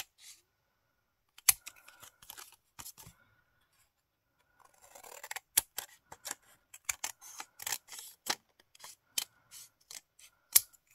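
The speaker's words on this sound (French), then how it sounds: "Et je vais venir couper l'excédent." Scissors snip off excess paper scraps for a scrapbooking collage, a series of short, close, crisp cuts and rustles, some in quick clusters, with pauses between, and no talking.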